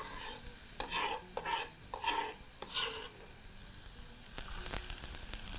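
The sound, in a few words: white onions sizzling in hot oil in a pot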